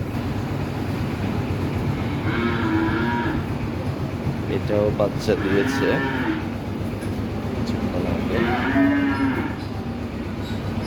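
Large double-bodied dairy cows moo on a farm, giving several long, drawn-out calls one after another over steady background noise, with a person speaking briefly.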